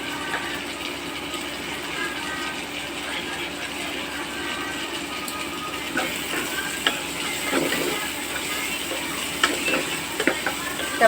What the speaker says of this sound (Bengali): পেঁয়াজ আর টমেটোগুলো এবার ভাজা ভাজা হয়ে গেছে